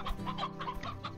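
Chicken clucking in the video game Slime Rancher, a quick run of short, soft clucks in a steady rhythm, fairly quiet and heard on its own.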